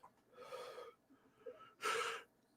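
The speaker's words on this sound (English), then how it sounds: "Sorry for yawning, everybody." A person yawns during a live broadcast, a long breathy exhale near the mic followed by a second, louder yawning breath after a short pause, with no speech.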